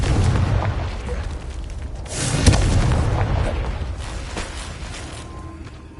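Confringo fire spell from the Hogwarts Legacy video game bursting into an explosion, a heavy boom about two seconds in over a loud, continuous rumbling game soundscape with no speech.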